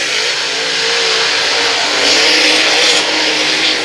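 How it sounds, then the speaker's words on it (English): Race cars roar around a dirt speedway at Brownstown Speedway during Saturday night racing, a loud, continuous engine drone that swells and fades as the pack passes, close and dominant with no voices. "Devin Gilpin Chad Stapleton still racing at the top of the pack."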